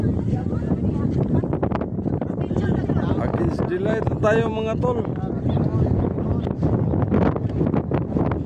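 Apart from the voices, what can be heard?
wind blowing on microphone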